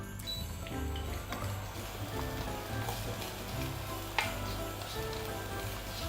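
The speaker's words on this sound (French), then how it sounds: "on les fait revenir à feu fort dans un peu d'huile d'olive pour leur faire rendre un maximum d'arômes" Coarsely chopped onion, carrot, leek white and celery sizzle over high heat in a little olive oil. The frying hiss is steady and close, with faint ticks and one brief clatter.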